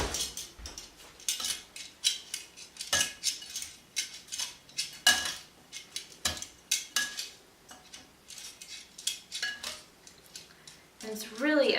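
Kale salad with thick Parmesan shavings tossed in a bowl, with dense, irregular clinks and scrapes of utensils against the dish, close and fairly loud.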